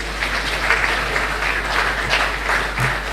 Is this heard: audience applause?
yes